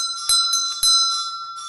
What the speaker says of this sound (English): it's got the original doorbell